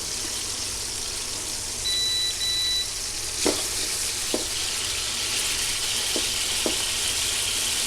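Eggplant, spread flat, fries and browns in a pan with a steady loud sizzle, broken by a brief electronic beep and a few sharp clacks of a utensil.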